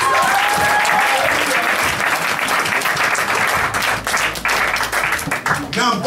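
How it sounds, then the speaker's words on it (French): At a church service presenting a child to God, the congregation applauds the parents, loud and sustained clapping from a full room, with a voice briefly heard over it near the start. "Give a round of applause for them."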